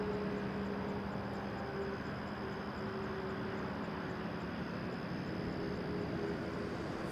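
A TAP Air Portugal Airbus A321neo headed to Lisbon gives a steady, distant jet roar with broad rushing noise, heard at Toronto Pearson Airport.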